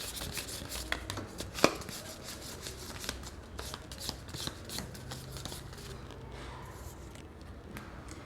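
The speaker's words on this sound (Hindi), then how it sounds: "मैं आपके सामने शफल कर रही हूँ" A deck of tarot cards shuffled by hand up close, a run of quick riffling, slapping flutters with one sharper snap partway through, fairly quiet with no talk.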